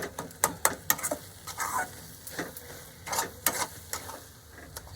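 A ladle stirs a coconut, sugar and powdered milk mixture in a pan, making repeated close scraping strokes in an uneven rhythm over a faint sizzle, with no talk.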